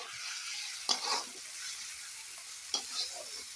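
Egg curry ingredients fry gently in a pan, giving a soft steady sizzle, with two brief scraping stirs of a spoon close by.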